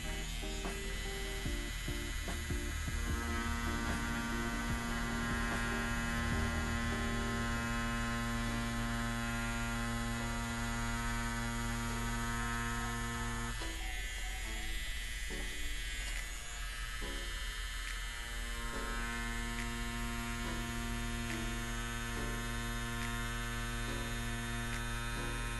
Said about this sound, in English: it is a professional tattoo machine